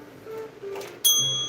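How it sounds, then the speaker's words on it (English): A small bell rings once with a sudden bright, ringing strike that decays over about half a second, following a stretch of soft background noise at an indoor live rock sale. "Oopsie. I did not mean to ring the bell."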